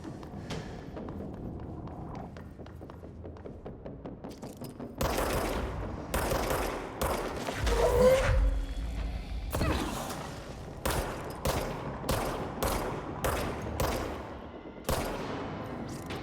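Gunfire in the Control video game, a quiet stretch of rapid clicks and ticks giving way to loud sharp shots and bursts, some in quick succession with pauses between, close and punchy.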